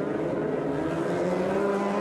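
Rallycross race cars in a GRC Lites final at New Hampshire, a continuous dense engine drone from a distance, steady and unbroken over the whole stretch.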